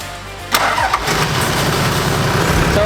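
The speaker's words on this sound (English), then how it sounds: "we're just gonna run the engine a little bit till we can feel this top radiator hose getting hot" A Toyota Land Cruiser's 1HD-T turbo diesel cranks briefly and fires, then settles into a loud, steady, close-up idle.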